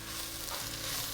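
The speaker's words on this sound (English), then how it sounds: "you want to stir them in and give them a minute to bloom over the heat" Spices sizzle steadily in hot oil in a one-pot lentil soup pot as they are stirred in, a close, continuous frying hiss with no voices.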